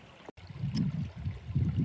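A garden pond waterfall trickles and gurgles steadily at close range, with a low bubbling churn throughout and no talking.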